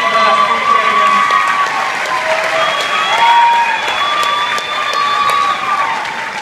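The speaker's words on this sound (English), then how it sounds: "I'm going to make a round of applause for all of our men and women for Team Class B champions." Crowd applauding and cheering at the Palmetto Classic for the Team Class B champions, sustained clapping with whoops over a bright, whistling tonal background, fairly loud throughout.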